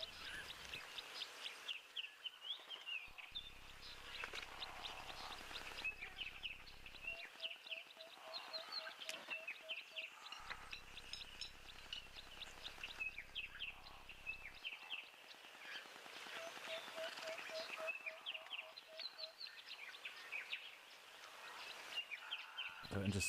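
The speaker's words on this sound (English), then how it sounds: "Southern masked weaver as well calling." A southern masked weaver calls outdoors in a quiet natural setting, its chirps moderately faint and repeated against other birdsong and a steady background hum.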